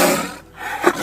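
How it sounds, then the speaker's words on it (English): A tiger roar, loud and close, swelling in a single burst near the end of a short moment after a brief lull, with no talking. "A tiger roar hits your chest and makes your whole body tense."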